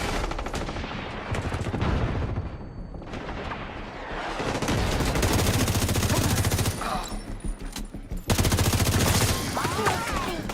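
Rapid automatic gunfire rattles in the video game The Division, set in Brooklyn, coming in dense loud bursts with short pauses, then heavier sustained firing toward the end.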